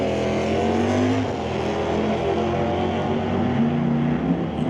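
A 1970 Barracuda and a Chevelle drag race cars rumble loudly and steadily at close range, engines droning with a slight pitch shift, and no voices.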